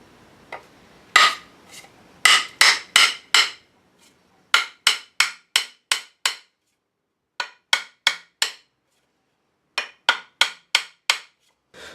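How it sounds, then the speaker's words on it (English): A Newfoundland logger's axe head is hammered down onto its wooden handle: loud, ringing metallic blows in quick bursts of three to five strikes, separated by short pauses, close and clear with no talking. "I'm going to just tack her right down onto the shoulder."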